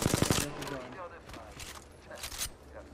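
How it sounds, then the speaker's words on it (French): A rapid burst of automatic gunfire opens a ranked video game match, followed by fainter distant shots under in-game voice lines. "On me tire dessus."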